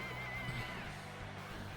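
A horse in a video game whinnies briefly and faintly beneath a quiet, steady background of game ambience.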